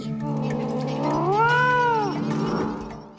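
A cat's long, drawn-out meow in the film Coraline, rising and falling in a single sweeping call, loud and close over a steady low background hum.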